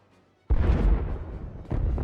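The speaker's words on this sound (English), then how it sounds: "You're heading for the explosions?" A sudden loud, deep video game explosion bursts in after a quiet moment, rumbling on, then a second blast hits near the end, in Star Wars: The Old Republic.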